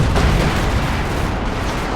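Two T-34 tanks in Company of Heroes 2 open fire on a Panzer IV, a dense, continuous rumble of cannon blasts and explosions close by, with no voices.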